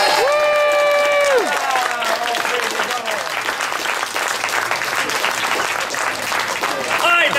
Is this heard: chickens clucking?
no